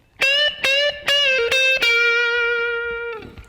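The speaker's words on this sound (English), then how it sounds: "I'm using my Pod HD400, and the amp setting I'm using is a Fender Deluxe. Mainly clean, but it's just slightly overdriven" Electric guitar through a Pod HD400 on a Fender Deluxe amp setting, mainly clean but slightly overdriven with a little room reverb, plays five bright picked notes and then lets the last one ring out before it is cut off.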